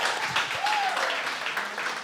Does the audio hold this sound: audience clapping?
yes